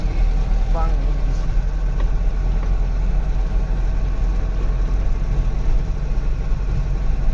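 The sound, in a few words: car driving on the Samruddhi highway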